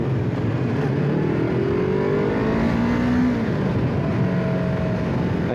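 A 600cc motorcycle rides through Jakarta traffic, its engine droning steadily close by with gentle rises in pitch as it accelerates, wrapped in a continuous wash of surrounding road noise.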